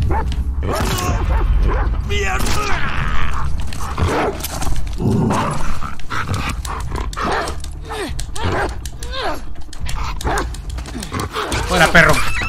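A dog barks and yips repeatedly in The Last of Us Part II, sharp bursts mixed with game effects while a person talks over the action.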